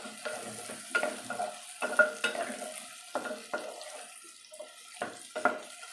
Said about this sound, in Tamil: நல்லா எண்ணெயிலே கத்திரிக்காய் வதங்கட்டும்.